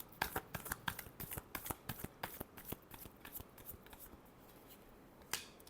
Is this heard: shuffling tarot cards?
yes